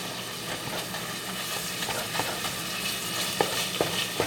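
Chorizo sausage sizzles steadily in a pan for chili while it is stirred and broken apart, with soft scraping clicks and a few sharper utensil taps near the end.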